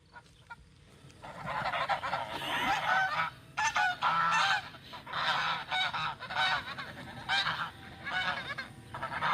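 Pet geese honk repeatedly and loudly, a close flock of harsh, nasal calls that overlap in bursts for several seconds, with short pauses between rounds of honking.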